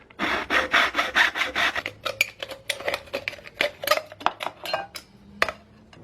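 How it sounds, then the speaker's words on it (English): A freshly cut edge is ground smooth by hand with rhythmic rasping strokes. They come quick and heavy at first, then turn lighter and more scattered. The sound is close and has no speech over it. "I'll probably grind it up a little bit to make it even smoother."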